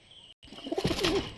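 Giribaz pigeons cooing softly, a short low rolling coo after a moment of near silence, faint and close, no talking.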